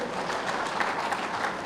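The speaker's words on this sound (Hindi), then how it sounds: "और एक बार ताली बजाओ मंडल अध्यक्ष के लिए" An enthusiastic rally crowd in Jharkhand, gathered for Shivraj Singh, bursts into brief, dense clapping that stays loud and steady throughout, many hands blending into one broad rush of sound.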